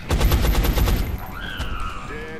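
A rapid burst of automatic gunfire from soldiers in the video game XCOM: Enemy Unknown sounds loud and close, then fades into rising whine-like game effects.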